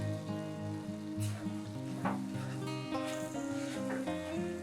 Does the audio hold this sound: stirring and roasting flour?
yes